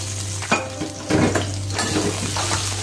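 Shallots frying in hot oil in a pan: close, steady sizzling with several clanks and scrapes of a utensil against the pan, no voices.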